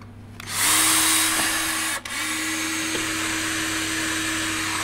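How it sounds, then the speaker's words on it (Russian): A power drill with a blunt bit whirs loudly and steadily with a strained, grinding tone, briefly cutting out for a moment before spinning back up. "Сверло, очевидно, такое же, как я. Туповатое."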